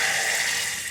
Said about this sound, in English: I'm going to take my bacon fat and pour it into the black eyed peas